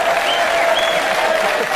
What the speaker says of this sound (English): So, anyone who thinks school days are great, cheer now.